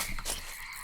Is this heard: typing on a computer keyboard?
no